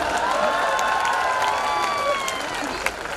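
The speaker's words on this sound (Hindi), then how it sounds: "ताली बजाओ, सांस लेना है।" A live audience at a Hindi poetry recital by Padma Shri awardee Dr. Surendra Dubey breaks into applause, with voices and cheers carrying over the steady clapping.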